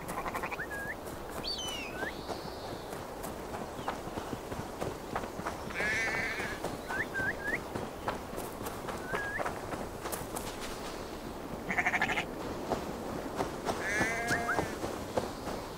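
Short, faint bleats of a sheep in Assassin's Creed Valhalla repeat every few seconds over a constant hiss and steady soft tapping, like footsteps in a game scene.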